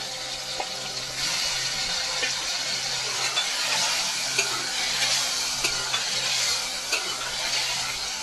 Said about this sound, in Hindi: अभी हम थोड़ा सा पानी डाल देते हैं